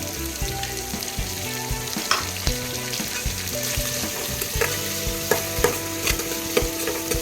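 Curry leaves fry in oil for a Tamil meen kulambu fish curry, a continuous crackling sizzle with sharp pops, heard under background music.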